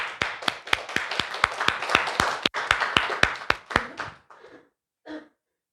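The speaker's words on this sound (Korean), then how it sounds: "박수 한번 쳐드리세요." A church congregation claps for two members during a sermon. Sharp, evenly spaced hand claps ring out close by for about four seconds, then thin out into a few soft trailing sounds.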